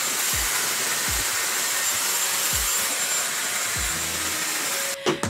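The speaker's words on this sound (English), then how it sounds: "rough drying my hair." A Dyson Airwrap blows hot air while rough-drying short coloured hair, a loud steady airy roar close by with faint low thumps underneath, ending in brief handling rustle; no talking.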